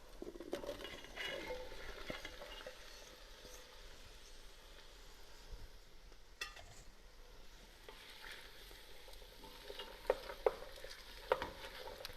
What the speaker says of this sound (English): you can hear it simmering again